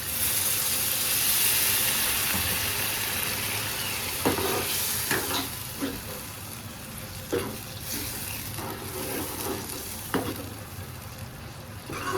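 Water poured into a hot pan of sizzling masala for an eggplant curry, giving a steady frying hiss with several sharp crackling bursts as the liquid hits, close and fairly loud, with no talking.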